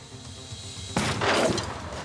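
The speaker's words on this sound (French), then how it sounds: "On entendit alors un coup de feu provenir de la grange." A single sharp gunshot rings out from inside a barn, a sudden loud broadband crack after a quiet murmur of background, followed by a lingering noisy tail as it echoes.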